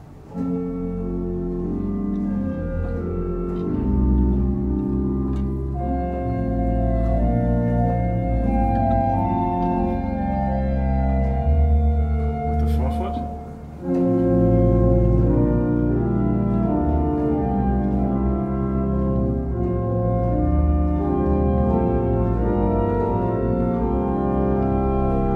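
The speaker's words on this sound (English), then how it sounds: "the flute by itself sounds like this" A pipe organ's flute stop sounds on its own, holding smooth sustained chords that shift slowly and evenly, with one brief dip midway; full, steady and without voices.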